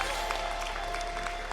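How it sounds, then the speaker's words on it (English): Applause from a live audience at an esports LAN grand finals event, a steady dense patter of clapping throughout with a faint tonal hum underneath. "Can we get a round of applause for Izord spending so many hours making thes"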